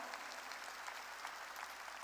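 Congregation applauding during a church worship service, a steady, dense wash of many hands clapping at a distance, continuous and fairly soft with no voices standing out.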